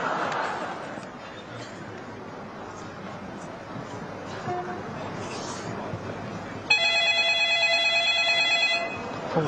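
A telephone rings on stage during a live comedy sketch at the 2005 CCTV Spring Festival Gala, entering about two-thirds of the way through as a steady, bright repeating tone over the murmur of the room.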